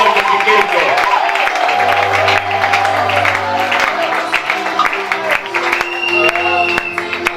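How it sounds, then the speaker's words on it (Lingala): A congregation at an evangelical church service applauds together, steady clapping sustained over several seconds and blended with voices and a low hum in a reverberant hall. "Acclamons pour le Seigneur Jésus-Christ."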